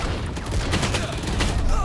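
Gunfire in a tactical shooter video game, where the player is using a sniper: a rapid cluster of sharp shots crackles over a dense, busy background of game noise, loud and close throughout the brief moment.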